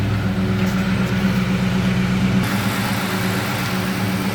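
A stock 2004 Ford Mustang Mach 1 engine idles steadily with a smooth, even low rumble that stays constant, close by, with no voices.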